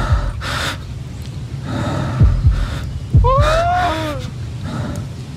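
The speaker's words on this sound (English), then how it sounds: "Dude, I hear heartbeat." In the Wendigo horror game Folklore Hunter, low heavy heartbeat thumps arrive in paired beats under gasping, heavy breathing and a rising whine, with a few muffled voices in the background.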